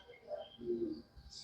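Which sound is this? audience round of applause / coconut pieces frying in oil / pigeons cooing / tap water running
pigeons cooing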